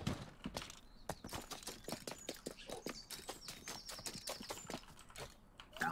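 Rapid clip-clop of a horse's hooves in a video game, a dense run of sharp clicks and taps at moderate volume with no talking.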